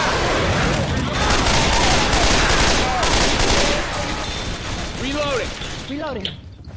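Heavy gunfire rattles in a co-op zombie shooter fight against a Tank and Charger, dense overlapping bursts from several weapons loud and close, easing in the last seconds as voices shout over it.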